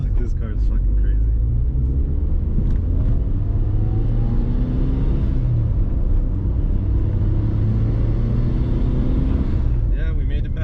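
A Mitsubishi Evo IV is driven hard, heard from inside the cabin: a steady engine drone with rising and falling pitch as it accelerates and shifts, over constant road rumble, with brief voices in the car.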